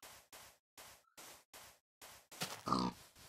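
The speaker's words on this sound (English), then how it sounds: "Oink oink." A Minecraft pig grunts and oinks in a quick series of about eight short, rhythmic bursts. The bursts are faint and evenly spaced, and the last couple are louder and harsher.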